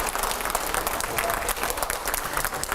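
Loud, sustained applause from a sizeable TV studio audience, dense clapping filling the whole stretch without letting up.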